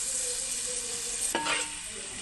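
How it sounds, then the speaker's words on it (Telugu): Spoon stirring fresh chili powder into a mango fish curry in a pot, a soft steady scraping with a faint sizzle beneath and one brief sharper scrape midway, close and quiet, no talking. "కారం వేసుకున్నాక బాగా తిప్పుతున్నాను."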